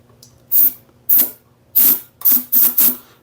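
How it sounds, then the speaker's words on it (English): Six short, sharp hissing bursts of aerosol starting fluid sprayed into an old engine's cylinder, each about a quarter second, fired in an uneven rhythm close to the microphone. "spray some starting fluid down in the cylinder and put the plug in"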